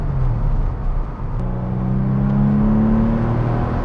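A 1997 Porsche 993 4S on the road, its engine droning steadily with rising revs. Tire and wind rumble run underneath, and nobody speaks.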